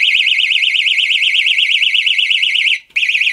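A pulled personal safety alarm blares a loud, piercing warbling siren that cycles rapidly and steadily, cutting out briefly near the end before starting again.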